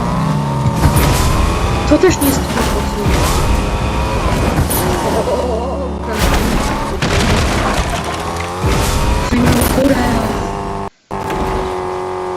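A car is driven in Fortnite Battle Royale, its engine roaring loud and continuous with tire squeals, thuds and game effects, while a player talks over the action.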